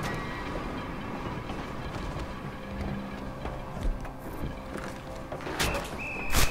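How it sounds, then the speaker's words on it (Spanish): A tram rolls along rails in Red Dead Redemption 2, a steady dense rumble with rattling wheel noise and a few sharp metallic squeals near the end, no voices over it. "Vale, vamos a ponernos el tranvía."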